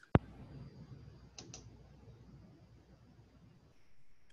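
One sharp, close click from a computer mouse, followed by a couple of fainter clicks in a quiet room.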